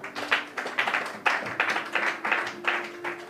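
A church congregation claps in a steady rhythm of about eight sharp bursts, loud and fairly close, with a faint sustained tone underneath and no talking.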